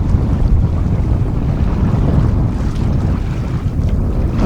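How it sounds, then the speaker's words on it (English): Strong wind roars over the sailboat Mingming II at sea, a loud continuous rush mixed with low rumbling water and hull noise, no voices. "No doubt this wind will strengthen"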